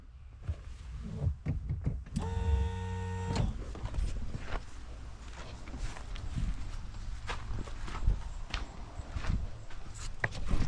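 An electric vacuum pump for power brakes starts up in an engine bay and whirs with a steady humming whine for about a second before cutting off, surrounded by light clatter and handling noises.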